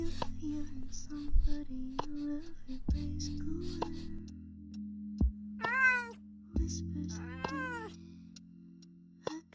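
An animated cartoon cat meows twice in drawn-out, wavering cries over a steady musical hum with occasional low thumps, the meows loud and close in the second half.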